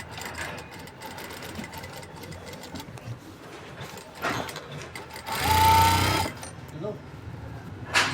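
A sewing machine stitching a stand collar onto a kurti, running in steady motorized bursts with a louder close run in the middle, while someone talks throughout.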